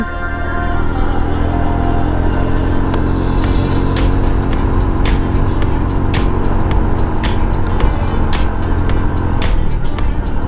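Motorcycle engine held in second gear as it climbs a steep road toward a grotto, a loud continuous drone close by with a few sharp clicks and knocks over the top.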